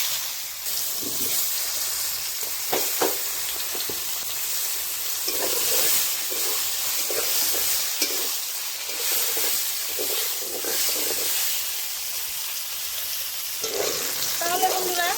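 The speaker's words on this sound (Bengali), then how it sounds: "এখন ভেজে নিব বেগুন।" Eggplant slices fry in a pan with a steady broadband sizzle and hiss, broken by occasional soft stirring clatter, close and moderately loud throughout.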